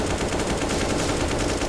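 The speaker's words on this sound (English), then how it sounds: "The shots there are firing and a flying with the quickness through the smoke." Rapid, dense gunfire in a competitive video game match, a steady loud stream of overlapping shots with no pauses, heard on its own.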